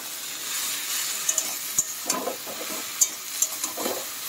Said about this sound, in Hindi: तो मैंने सब इंग्रेडिएंट्स अभी इसमें एक साथ डाल दिया है और इसको अच्छे से मिक्स करके